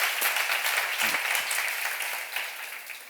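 A congregation at a Korean church seminar on the Gospel of John breaks into applause, a broad wash of many hands clapping together that holds steady and then slowly thins out.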